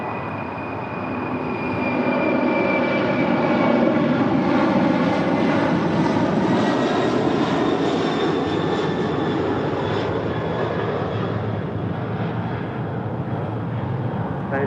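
Airliner landing on runway 25 left at Los Angeles International Airport, a loud sustained jet engine roar with whining tones that swells over the first few seconds, then holds steady.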